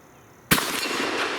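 A Fusion Firearms Bull Prime shotgun fires once at a 12-inch steel plate 80 yards away. The single sharp, loud blast is followed by a sustained wash of echo and noise.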